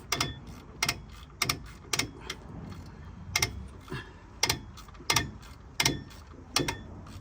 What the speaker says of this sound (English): me winding the brake off. That's the chain inside the caliper.